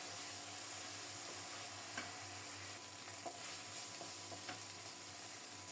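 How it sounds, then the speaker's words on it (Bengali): A spice mix sautéing in a pan makes a soft, continuous sizzle broken by occasional scraping strokes of a spoon, fairly quiet and with no talking. "প্রথমে মশলাটাকে খুব সুন্দর মতো কষিয়ে নেব।"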